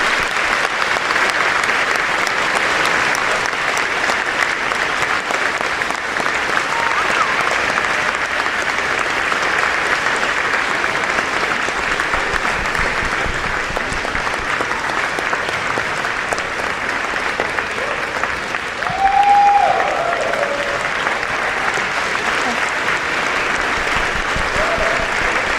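Students applauding parents and guardians at a Bergen Tech class induction ceremony: sustained, dense clapping from a large crowd filling the room, steady throughout with a brief brighter burst near the end.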